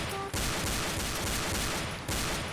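Dual pistols in Killing Floor, Guardian's mod, firing as a dense, continuous stream of rapid shots with barely any gap, loud and close, with two brief pauses.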